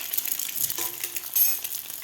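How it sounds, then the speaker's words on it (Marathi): A boiled egg fries in a hot pan with a steady, dense sizzle and crackle, close and fairly loud, with faint scraping as it is turned. No voices. "अंडा आपल्याला व्यवस्थित फ्राय करून घ्यायचं आहे"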